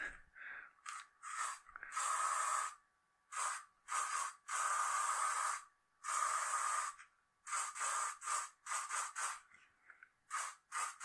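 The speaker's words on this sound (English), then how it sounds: "it's just a bit of hairspray it is" Hairspray from an aerosol can sprayed over a mixed-media figurative artwork on paper, heard as a series of close, loud hissing bursts of varying length with short pauses between them.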